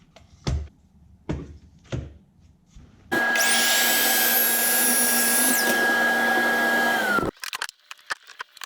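A power miter saw cuts a taper into a wooden table leg: several short knocks and clamp handling, then a loud sustained whine and grinding cut lasting about four seconds, ending with the motor spinning down.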